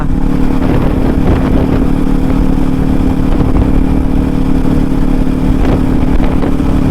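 A Kawasaki Ninja 400 motorcycle engine drones steadily while riding at speed, a loud, continuous, close-up hum with strong wind rush and no talking.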